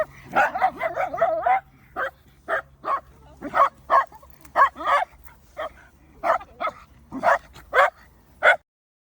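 A dog lunging to play with another dog gives a run of sharp, close barks mixed with high whimpers and yips, rapid at first and then in spaced bursts, with no talk over it.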